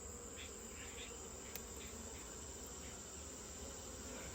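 Many bees buzz together inside a hive, a thick, steady drone that stays close and even throughout with no voices.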